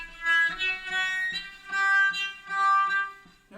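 Cello played with the bow in artificial harmonics, a series of glassy, whistle-like high sustained notes rising and falling in separate bow strokes, clear and close with no talk.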